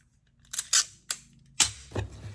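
Packing tape is pulled and pressed over a shipping box in several short ripping, sticking bursts, up close and fairly quiet, with pauses between the pulls.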